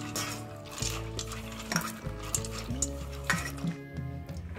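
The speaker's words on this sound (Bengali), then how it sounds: "এই ডালটাকে 2 থেকে 3 বার ভালো করে ধুয়ে নেব।" Chana dal (split chickpeas) is swished and stirred by hand in a metal bowl of water, giving soft rhythmic sloshing and grainy scraping with repeated light clanks against the bowl, close and fairly quiet, with no voices.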